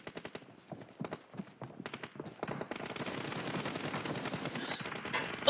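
Pistol shots fired during a PUBG Mobile match, a quick run of sharp cracks followed by a denser, steady wash of gunfire and game noise.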